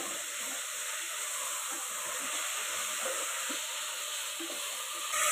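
Onion, tomato and ginger garlic paste sauté in a pan as cooking for a banana flower kootu, giving a steady, even hiss and sizzle that holds unbroken throughout with no voices.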